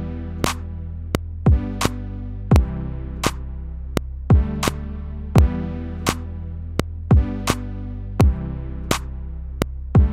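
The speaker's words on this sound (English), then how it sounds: "Remember, I'm clapping on 2 and 4." Sharp clap hits land on a steady backbeat alongside a low, pulsing bass groove, repeating evenly throughout.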